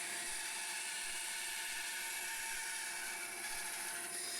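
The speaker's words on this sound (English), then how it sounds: "a bandsaw blade doesn't cut round these sharp corners, so I've got to take it a little bit at a time." Bandsaw cutting aluminium in short passes around tight corners, a constant dense buzzing whine of blade on metal, loud and close throughout.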